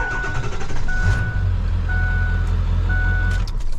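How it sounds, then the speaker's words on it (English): A 300,000-mile Ford Excursion with a 7.3 diesel engine runs with a loud, steady low idle from start to end. Repeated reversing-style beeps sound nearby above it. "So fire right up, that's how it's supposed to start."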